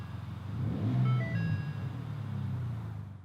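The engine of a 2018 Ford Expedition Limited cranks and catches after a push-button start, rising to a brief rumble with a few chime tones before settling into a quieter steady idle.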